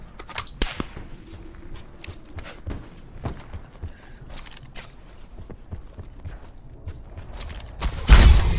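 Shots ring out in a Call of Duty Blackout battle royale match as a few sharp, scattered cracks. They come between quieter footsteps and mechanical clicks, and a louder burst lands near the end.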